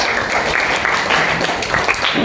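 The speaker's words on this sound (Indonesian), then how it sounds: "Oke, tepuk tangan buat Tiara." A crowd applauding steadily and loudly throughout, dense clapping with no pauses.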